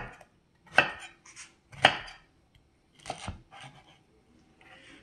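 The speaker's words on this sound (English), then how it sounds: "then you're just cutting for chunks the size that'll fit in your mouth" A serrated bread knife saws through pineapple on a cutting board, cutting it into bite-sized chunks: several crisp, close chops and thuds with short scraping strokes between them, no talking.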